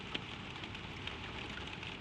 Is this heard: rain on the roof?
yes